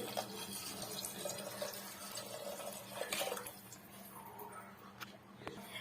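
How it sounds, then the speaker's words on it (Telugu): Water pours quietly into a pot, a soft, steady splashing that fades after a few seconds, faint and fairly close. "తర్వాత వాటర్ అయితే పోసేసుకోవాలి."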